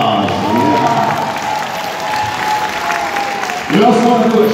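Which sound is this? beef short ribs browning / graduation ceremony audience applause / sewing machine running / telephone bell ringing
graduation ceremony audience applause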